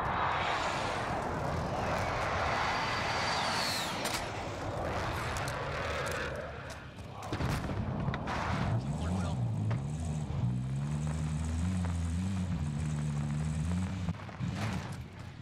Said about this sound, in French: Un drone arrive sur zone.